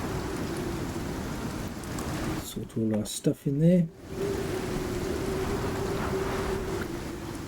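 Steady heavy rain from a storm in the video game Icarus hisses throughout, briefly interrupted by someone talking before the downpour continues alone.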